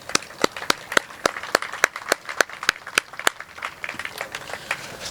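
A meeting audience claps for the staff of a large annual nonprofit membership meeting, a brisk, even run of sharp handclaps over a few seconds that thins toward the end.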